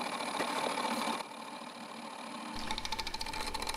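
A wood lathe spins at around 800 RPM while a half-inch bowl gouge cuts a segmented bowl that includes hard Bloodwood, giving a continuous motor whine with a raspy, fluttering cutting texture that rises toward the end.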